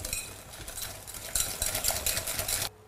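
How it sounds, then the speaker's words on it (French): Whole eggs and sugar whisked vigorously in a bowl for a lemon meringue tart: quick, rhythmic scraping strokes of a whisk against the bowl, close and continuous, then stopping abruptly. "Fouettez vigoureusement les œufs et le sucre pour les blanchir."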